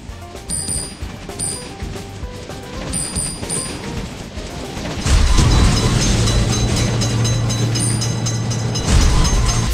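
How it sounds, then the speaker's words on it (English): At a road crossing, a train approaches and then passes close by, the sound jumping abruptly into a loud roaring rumble with a steady low horn tone about halfway through, no talking. "Quick, train is noticed!"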